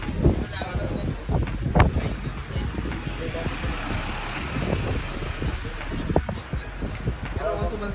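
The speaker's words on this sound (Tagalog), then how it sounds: "Grabe, lakas ng hangin." Strong gusting wind on Mount Ugo buffets the microphone with a loud, continuous roar and rumble, and voices talk intermittently over the blustery noise.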